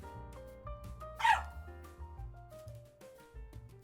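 A single short dog bark rings out partway through, set against steady background music with layered tones.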